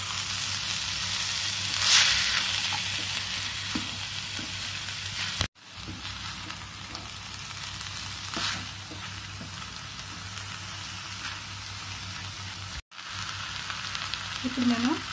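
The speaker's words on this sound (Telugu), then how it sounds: "కూరకంతా పట్టేలాగా మనం దీన్ని కలుపుకోవాలి." Young jackfruit curry with salt is stirred in a frying pan, giving a steady, close sizzle that runs through the whole stretch with occasional soft scrapes.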